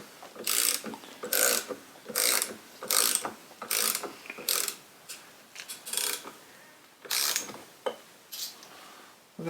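A puller working a bearing off an old Hickey Sidewinder winch gives a series of sharp, bright ratcheting clicks in uneven bursts, close and fairly loud.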